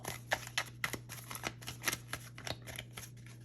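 A tarot card deck is shuffled close by, giving a quick irregular run of crisp papery riffles and taps, heard alone without talking.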